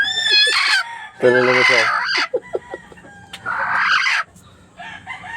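Chickens from a fighting-rooster flock, including a white hen that has just laid eggs, cluck and cackle in bursts close by, with a rooster crowing between, while a person talks over part of it.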